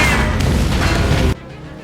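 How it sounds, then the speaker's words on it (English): A thunderous tank cannon blast from the war film Fury booms loud and sustained, ending in an abrupt cut to a much quieter background. "Then it came, a thunderous blast."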